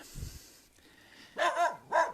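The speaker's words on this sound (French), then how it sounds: "Alors là, il y a les chiens." Dogs bark twice at moderate distance, two separate woofs near the end after a quiet stretch with a brief low thump at the start; no talking.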